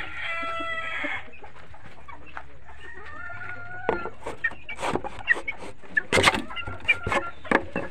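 Chickens and chicks in a coop cluck and peep in a busy, uneven chorus, with sharper calls building toward the end.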